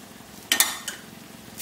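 Okra (bhindi) frying in a pan on a low flame, with a few quick scraping stir strokes and a soft sizzle between them, faint and close with no talk.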